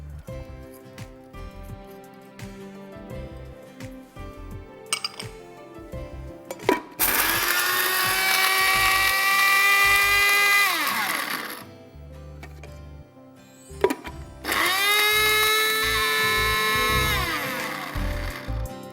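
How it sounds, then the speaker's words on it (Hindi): A loud electric grinder grinding ginger and garlic whirs in two long bursts, each spinning up sharply, running steadily for several seconds, then winding down, with quiet kitchen clatter between. "सो हम अदरक और लहसुन भी साथ डाल के इसको हम पीस लेते हैं।"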